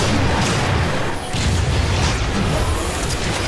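A sniper bomb explosion in a video game erupts as a dense, loud roar of crashing noise, briefly dipping before surging again and staying constant throughout.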